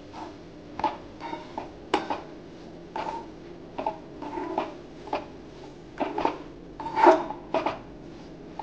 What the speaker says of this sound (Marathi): आपण जो भाजलेला रवा होता तो आपल्याला टाकून घ्यायचा आहे आणि एकसारखा आपल्याला ह्याला परतवून घ्यायचं आहे